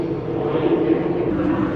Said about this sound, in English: a lot of planes fly over here. We're quite close to the airport.